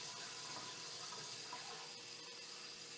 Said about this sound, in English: So all you need is about one full cup of water.